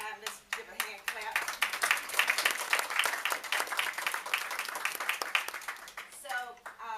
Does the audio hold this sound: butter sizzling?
no